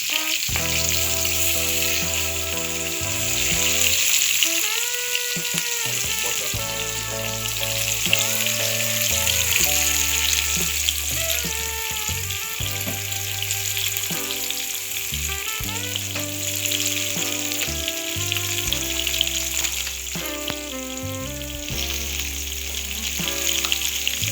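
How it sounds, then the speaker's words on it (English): Seasoning fries in a little oil in a pot for an ackee and saltfish breakfast, a steady loud sizzle and crackle with occasional stirring clinks, continuous and close throughout. "we're gonna get some oil into this pot over here. Not much oil. Transfer our seasoning into our pot."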